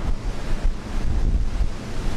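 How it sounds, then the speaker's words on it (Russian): Storm waves splash onto a seaside embankment during a European hurricane while strong wind buffets the microphone, making a continuous loud roar with surging bursts and no voices. "ледяные волны выплескиваются прямо на улице"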